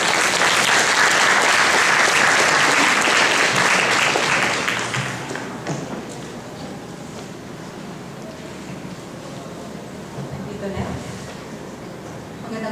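An audience claps loudly to welcome a speaker at a formal lecture event, dense steady applause that fades out around the halfway point, leaving quieter room noise with a voice beginning to speak.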